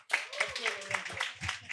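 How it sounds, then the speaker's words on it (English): Clapping rises for a guest at a live recording event in a short, rhythmic run of distinct handclaps from a small group, close and crisp, with a voice speaking over them. "Please give him a round of applause."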